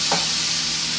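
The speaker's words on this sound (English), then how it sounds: "I'm trying to move them around on the pan so that they cook at the same" Pork belly pieces frying in a hot pan, a steady broadband sizzle throughout with a brief scrape near the start as the slices are pushed around; no talking.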